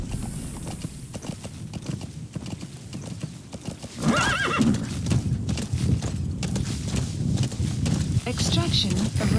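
Horse hooves clip-clopping at a steady trot to gallop in Metal Gear Solid V: The Phantom Pain, a rhythmic close beat with a whinny and louder game effects joining partway, a voice talking over it.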